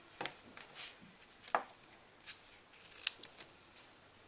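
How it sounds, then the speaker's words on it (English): Paper snips cutting ribbon at an angle, a few quiet, sharp snips spaced apart in a calm indoor craft setting with no talking. "Use your sharp scissors. I use paper snips and just snip on an angle."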